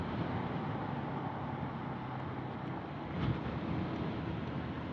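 Steady wind rushes outdoors, buffeting the microphone in a continuous low roar with a faint wash like water or an engine beneath.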